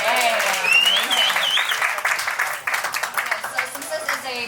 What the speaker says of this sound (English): One more round of applause for this dynamic group of women.